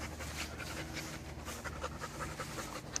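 A dog pants quickly and steadily close by, a soft rhythmic huffing with faint background hiss, eager to play football; no one speaks.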